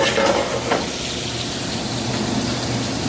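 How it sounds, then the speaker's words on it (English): Pork fat rendering and crisping in a hot pan gives a steady, dense sizzle and crackle, even and continuous throughout, close up, with no talking. "So we're rendering that fat and crisping up that pork."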